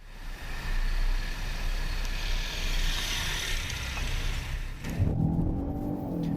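A 2020 Lincoln Corsair compact crossover with a turbocharged 2.3-liter four-cylinder accelerates in a steady, fairly loud drone that shifts to a different tone near the end.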